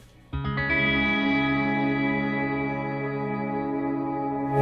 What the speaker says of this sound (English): use this cool shimmer setting mode that they have in here